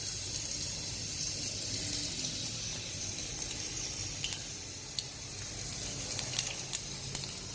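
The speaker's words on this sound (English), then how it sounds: "You can hear it crackling" Mustard seeds in hot oil for a Tamil-style tomato rasam give a steady, soft hissing sizzle. Scattered small crackles and pops grow more frequent toward the end, and no one speaks.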